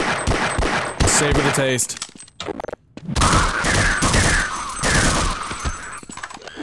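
Rapid automatic gunfire rattles through Half-Life, loud and dense, cutting out briefly before another long burst. A voice speaks over the shooting.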